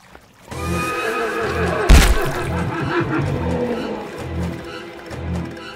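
Horse neighing in the Roblox game The Butchery, a loud whinny over a low rhythmic pulsing game soundtrack, with a sharp burst near two seconds.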